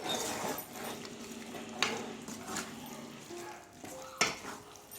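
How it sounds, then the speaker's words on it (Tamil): A spoon scraping and stirring through chicken gravy with coriander and mint in a pot, faint soft swishing with a few sharper clinks against the pan. "இதை அப்படியே வந்து மிக்ஸ் பண்ணிப்போம்"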